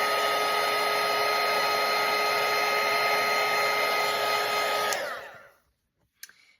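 A hair dryer blows steadily close by while drying watercolour paint, a loud constant whirring rush that winds down and cuts off near the end, followed by a small clack.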